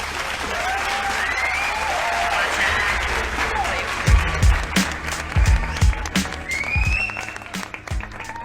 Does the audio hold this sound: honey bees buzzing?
no